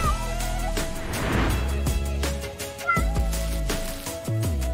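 A kitten meowing in a home setting, with repeated short cries over background music or noise.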